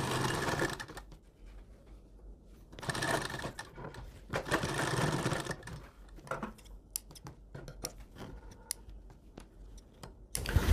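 A home sewing machine stitches a cloth face mask in several bursts of rapid mechanical whirring, separated by pauses filled with light clicks and fabric handling, close and fairly loud.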